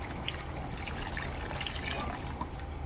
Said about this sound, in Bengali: এবার এখানে আমি অ্যাড করে দিচ্ছি গরম জল।